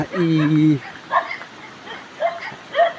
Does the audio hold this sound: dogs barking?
yes